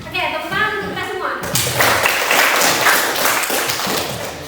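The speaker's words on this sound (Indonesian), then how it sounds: "tepuk tangan untuk kita semua." A group of students in a classroom lesson clap together after a teacher's cue, a short burst of loud close clapping following brief talk, with spoken voices mixed in.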